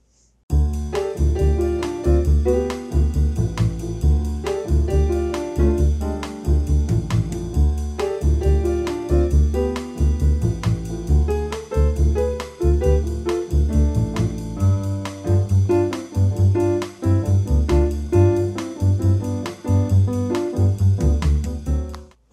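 Solo jazz piano plays a steady bouncing bass figure under punchy repeated chords, loud and close, sustained for over twenty seconds with no talking.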